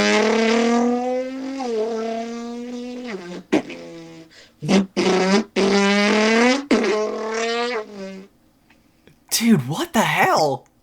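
A human voice imitates a car engine flyby, rising and falling revving whines with bursts and sweeps, loud and close, then a final quick pass at the end.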